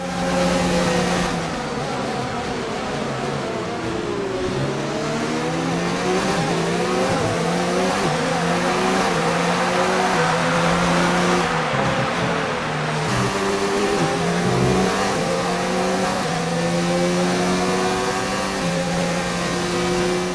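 Race cars at the Chinese Grand Prix in an F1 video game, loud engines droning and revving continuously in a dense pack, with layered pitches sweeping up through gear changes and occasional tyre squeal, no talk.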